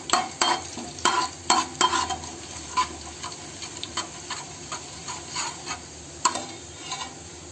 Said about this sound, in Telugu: జీలకర్ర వేసి ఒకసారి వేయించుకోవాలండి. అటు ఇటు కొంచెం కదిపాక